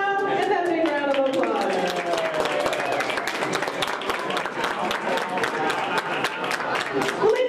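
Audience at an Epcot theme-park show breaks into a big round of applause, dense clapping and some cheers filling the space for several seconds, with a presenter's voice over it before it fades.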